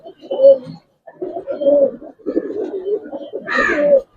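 Giribaz pigeons coo at a loft in a series of low, throaty rolling calls, one after another at close range, with a brief higher call near the end.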